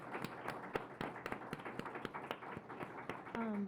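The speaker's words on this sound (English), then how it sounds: "let's give a big round of applause to our panelists" A summit audience applauding panelists, with scattered, uneven claps from a modest crowd, fairly faint and with no clear rhythm, and a voice briefly heard near the end.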